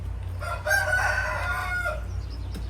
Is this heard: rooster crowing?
yes